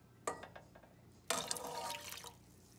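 Half a cup of water is poured into a pot while oatmeal is being made, giving two faint splashing pours, a short one and then a longer trickle, with no talk.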